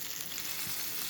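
Bangda mackerel frying in a pan, a brief, dense, steady sizzle heard close up with no pauses.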